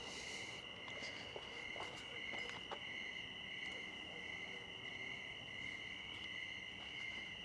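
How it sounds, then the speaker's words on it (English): Crickets chirping at night in a suburban area, a steady high pulsing trill that continues unbroken, with faint scattered clicks and low background rumble. "And then just listening to the crickets."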